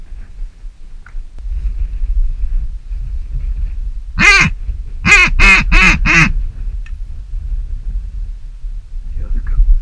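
Diver ducks in a low-flying flock at a Gulf Coast beach during a hunt, giving a brief burst of five loud, harsh calls in quick succession over a steady outdoor background.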